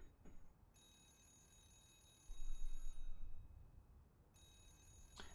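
A telephone rings in an office in the horror video game Remothered: Broken Porcelain, two faint, sustained ringing bursts separated by a short gap over a low background hum, with no talking.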